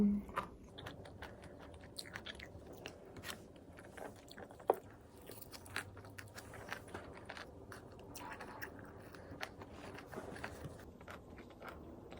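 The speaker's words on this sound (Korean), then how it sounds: "백만년 씹어먹기 버섯 맛있어 된장국에 조린 버섯" Close, steady chewing and biting of mushrooms braised in doenjang soup, with soft wet crunches and squishy bites repeating over several seconds and a few scrapes and clinks mixed in, no talking.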